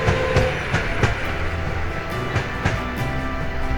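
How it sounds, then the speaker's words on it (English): A steam-era train runs past a field of kash flowers in a classic Bengali film scene, a loud near rumble with steady clickety-clack wheel beats over the rails. "The scene was the famous discovery of train by Oppu and his sister Durga in the field of cash flowers."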